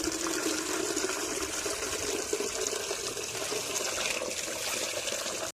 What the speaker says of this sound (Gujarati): પાણી ભર લો